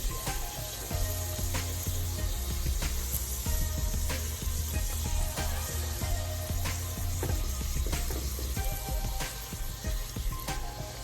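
Shrimp sizzling and frying in a pot, a steady close crackle with small pops and stirring noises running continuously without pause.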